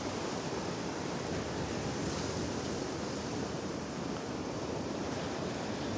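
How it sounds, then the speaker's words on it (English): Ocean surf on a Gulf beach at Wiggins Pass in North Naples, Florida, with the tide coming in: a steady, dense wash of breaking waves rolls on without pause, mixed with some wind across the microphone. "The tide is coming in."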